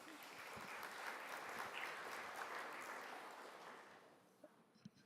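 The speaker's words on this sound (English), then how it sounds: "let's give another round of applause to the book" A plenary audience at the Caux Forum applauds in sustained, dense clapping that fades gradually, ending with a few scattered individual claps.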